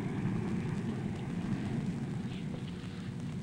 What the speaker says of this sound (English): He's hitting his F-86E down the runway now.